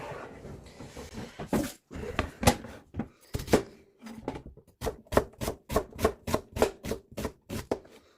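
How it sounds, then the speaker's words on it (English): An onion is chopped by hand with a knife on a board, first in a few scattered cuts, then in a fast, even run of crisp taps close by in a quiet kitchen. "I'm going to do it here right now because Usha is sleeping"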